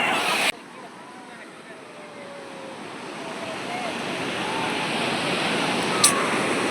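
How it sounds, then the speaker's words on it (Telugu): Ocean surf at Puri beach: a broad, continuous roar of waves that slowly builds in loudness, mixed with wind buffeting the microphone. "చూడండి అలలు అయితే ఫుల్గా వస్తున్నాయి."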